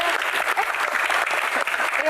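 A studio audience at a talk show gives sustained, dense applause to an elderly guest, loud and even throughout.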